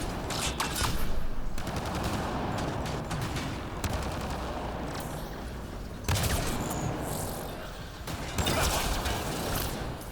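Enemy gunfire in the sci-fi shooter Mass Effect Andromeda, with rapid bursts and scattered shots crackling across the whole stretch, fairly loud and mixed with game noise, no talking.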